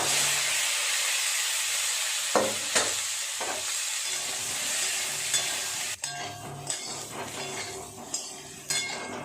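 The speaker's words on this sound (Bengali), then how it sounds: "মাছ ভাজার তেলে আলুগুলো একটু ভেজে নেব" A steady hiss of potatoes frying in hot oil left over from frying fish, with a few sharper clinks and scrapes against the pan, no voices.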